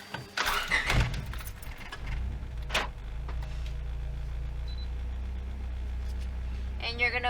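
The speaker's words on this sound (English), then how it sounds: "now you're going to turn on the car" An Acura Integra engine starts after its fuel injectors are reinstalled: keys jangle, the starter cranks briefly, then the engine catches and settles into a steady low idle, with a voice speaking briefly near the end.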